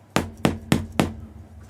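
The chin of a stiff hard-mold zombie mask knocks on a desk four times in quick, even succession, each a sharp hard tap like hammering a nail, close and loud.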